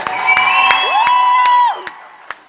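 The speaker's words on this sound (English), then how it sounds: "a big round of applause for David Higgs" Audience at the Cooking for Dreams charity event at Empress Palace applauding chef David Higgs, with sustained whoops and whistle-like cheers over a few sharp, scattered claps, fading out at the end.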